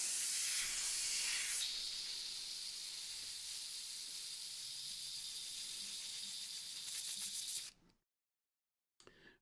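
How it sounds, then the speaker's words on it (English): A paint spray gun sprays cleaning water in a loud, sharp hiss that holds steady for several seconds, then cuts off into silence before a brief final burst. "Just keep doing that until when I spray on the paper towel, I get no black."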